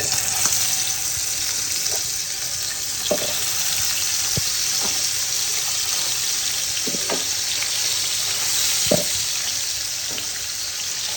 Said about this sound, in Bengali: মাছ ভাজা হয়ে গেছে প্রায় লাল লাল করে ভেজে নিয়েছি